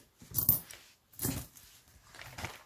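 Coins dropped into a paper budget envelope, about 13.50 euros in change, clinking and rustling in three short, faint bursts close by.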